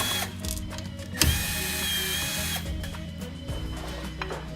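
A power tool whirs and ratchets as screws are backed out of an LED Helios driver mounted to a light fixture's metal chassis, a sustained close mechanical drone with brief clicks.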